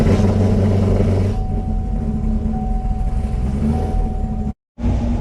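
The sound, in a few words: Chevrolet Camaro engine running, warming up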